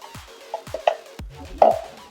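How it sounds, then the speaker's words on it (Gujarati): A spoon stirs watermelon juice with gond kataran in a glass, giving a handful of quick clinks and swishes, close and fairly quiet, spread over two seconds. "પ્રોપર સ્ટરરથી મિક્સ કરી લઈશું."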